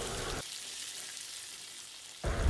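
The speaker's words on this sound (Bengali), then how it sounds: "আমাদের পটল ভাজা হয়ে গেছে।" Sliced pointed gourd (potol) fries in hot oil. A loud, crackling sizzle opens the clip, drops to a quiet, muted stretch, then surges back up close at the end, with no talking.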